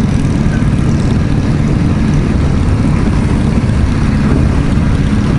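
A Yamaha MT-09 motorcycle engine drones steadily and loudly on a road test ride, a constant low rumble blended with heavy wind noise and no gaps.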